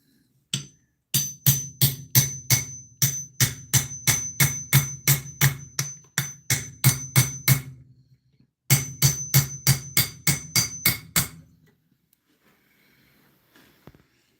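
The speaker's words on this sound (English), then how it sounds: "We're going to be using a socket to sort of tap on the shaft piece here." Hammer striking a socket held against the shaft of a 26-year-old washing machine, a fast, even run of sharp metallic taps, close and loud, pausing briefly before a second burst, then fading to quiet.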